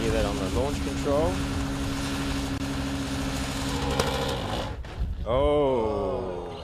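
A Formula SAE race car engine revs on launch control at a competition event: the pitch climbs and drops in repeated rising sweeps, with a sustained drone between them, as a commentator talks over it.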